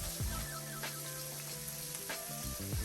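Seasoned shrimp with chopped garlic frying in a pan, a steady close sizzle with a few scraping stirs and no voices.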